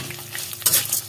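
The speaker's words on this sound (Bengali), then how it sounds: "এটাকে দিয়ে ভালো করে সব কিছু, সব উপকরণ একসঙ্গে ভালো করে ভেজে নেব।" Curry leaves and garlic cloves frying in a pan, a brief burst of crackling sizzle that flares louder midway as they are stirred, close up.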